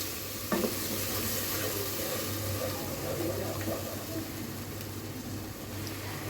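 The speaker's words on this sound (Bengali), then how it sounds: "কষানোর এই পর্যায়ে এসে একটু পানি দিয়ে দিব।" Frying spices for beef tehari hiss and sizzle in a pan after a little water goes in, a steady close sizzle with one sharp clink near the start.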